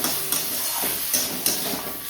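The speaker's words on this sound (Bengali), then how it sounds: "মেথি শাক ভাজা বসিয়ে দিয়েছি বেগুন দিয়ে" Fenugreek greens fry with brinjal in a pan, a soft steady sizzle with a few light stirring clicks through the short stretch, no speech.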